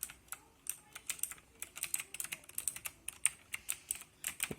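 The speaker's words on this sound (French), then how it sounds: "Bon, forcément, il y a un clic par touche." Clicky keys on a gaming keyboard with RGB lighting, typed in a quick, uneven stream of light taps, each key giving one crisp click, fairly quiet and close, with no voices.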